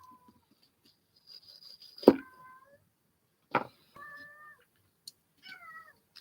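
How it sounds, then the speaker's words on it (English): A pet cat meows at a door, giving several separate calls spread over a few seconds. Some are short and sharp, others drawn out and wavering, with quiet gaps in between. "Can you hear my cat at the door?"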